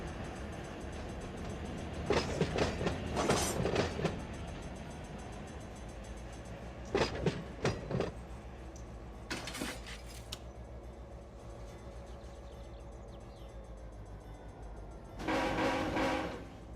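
A train shoving a string of tank cars in the Run 8 rail simulator, a steady low diesel rumble and rolling hum with several short bursts of louder clanking and a horn-like blast near the end.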